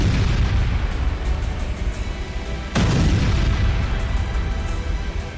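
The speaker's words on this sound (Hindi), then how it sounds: "ओडेसा में पुतिन की क्लस्टर वॉरहेड के सीरियल धमाके शुरू हो चुके हैं" Heavy booming blasts from cluster warhead missile strikes in Odesa: a dense, continuous rumbling roar with one sharper burst midway, loud and sustained without speech.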